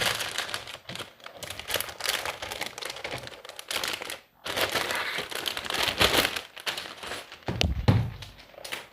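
HP OMEN 15 gaming laptop being pulled from its protective cover, giving continuous close crinkling and rustling with a few soft thumps and a brief pause midway, no talking.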